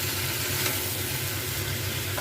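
Drumstick stems, papaya, red potato and eggplant sizzle steadily in a hot pot while being stirred with salt, a continuous close frying hiss with soft scraping underneath and no voices.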